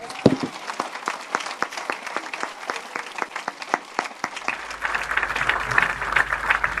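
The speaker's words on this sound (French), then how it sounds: "On peut acclamer encore Jésus-Christ" A church congregation breaks into lively applause, many hands clapping in a dense, sustained burst that swells slightly toward the end, with no talk over it.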